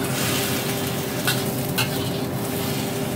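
Shredded pork and vegetables stir-fried in a wok, with a continuous loud sizzle and a few scraping strokes of the spatula, close up and with no voices.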